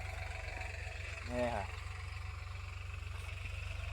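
A tractor engine idles steadily and close by in a low, even throb that runs the whole time, with a brief spoken exchange over it.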